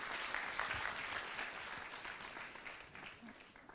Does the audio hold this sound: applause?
yes